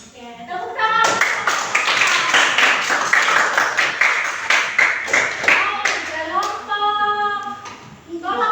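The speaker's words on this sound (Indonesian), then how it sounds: "Oke, tepuk tangan." A classroom of students bursts into lively hand clapping that holds steady for several seconds before fading, with a voice speaking briefly before and after.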